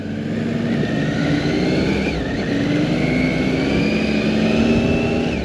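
A motorcycle rides through the city streets of Timișoara, Romania, on a guided tour, its engine droning steadily up close under wind rush, with the pitch rising and falling gently as the rider shifts and accelerates.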